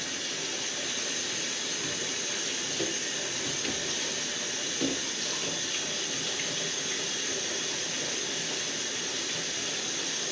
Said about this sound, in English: Gonna rinse this with some cold water.